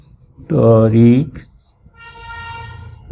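A marker or chalk squeaks across a board during a sixth-grade maths lesson on the area of a parallelogram, in short strokes alternating with a teacher's voice.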